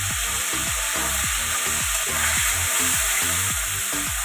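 Fish oil fries in a pan for an Indian recipe, a steady loud sizzle with a rhythmic series of scraping stirs running throughout, close up, with no voices.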